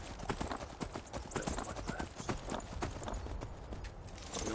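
Horse hooves galloping in the video game Skyrim, a fast steady clip-clop rhythm that runs loud and close through the whole stretch, with faint game sounds underneath.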